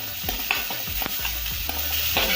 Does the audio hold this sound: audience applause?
no